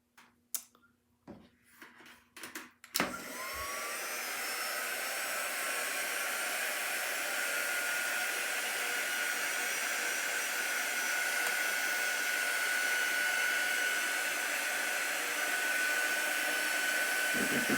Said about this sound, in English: Let's get our dryer tool.